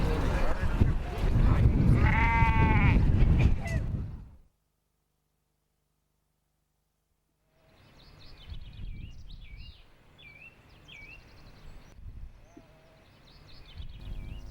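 Sheep bleating on a hillside farm at midsummer, heard after a stretch of talk and a silent gap, with several ewes calling at moderate distance over a continuous outdoor background.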